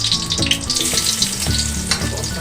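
Garlic frying in a pan for a chicken and broccoli stir fry gives a steady, close crackling sizzle that runs throughout, with tonal background music underneath.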